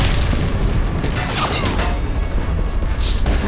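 Missiles blast in a video game battle, a loud, dense run of booms and crashes that keeps hitting for several seconds.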